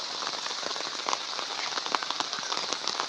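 Rain falls steadily on a pond, a faint, even patter of drops with small crackly splashes, heard without any talking.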